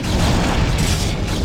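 A command center blows up in StarCraft, a continuous, loud, dense rumbling boom with a low roar that holds steady across the whole moment and has no clear separate blasts.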